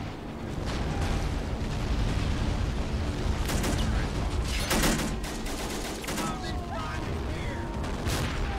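Mortar rounds fire and crash into explosions amid a steady rumble of battlefield gunfire in a World War II combat game of American forces against the Axis, with scattered voices in the mix.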